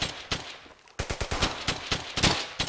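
Rapid gunfire in the World War II shooter Brothers in Arms: Hell's Highway: close, punchy shots and short bursts crack out in an uneven rhythm, each with a brief echoing tail.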